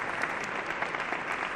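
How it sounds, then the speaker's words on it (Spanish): Sustained audience applause at a Spanish Christmas-season talk show, dense steady clapping from a crowd throughout, fairly close and even in loudness. "Un aplauso os pido para David y para Jesús."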